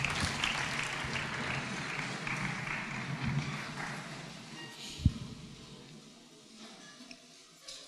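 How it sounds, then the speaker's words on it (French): A church congregation applauds in a sustained wash of clapping that slowly thins out, with a single sharp knock partway through. "Acclamons la parole."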